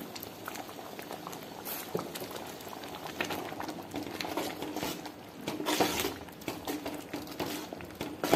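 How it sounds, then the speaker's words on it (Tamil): A pot of pea masala bubbles and simmers steadily, with soft popping and gurgling throughout and an occasional faint clink of utensils. "இப்போ நல்லா கொதிக்குதுங்க."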